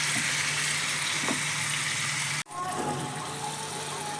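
Marinated chicken, seasoned with ginger and chili, hisses and sizzles steadily in a hot pan, with a brief break partway through before the frying noise resumes at a slightly lower level.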